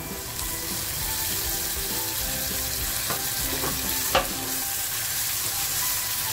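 Chopped tomatoes go into hot oil spiced with red chilli masala for a tomato chutney and fry with a steady, close, crackling sizzle, while a spoon stirs and clinks against the pan.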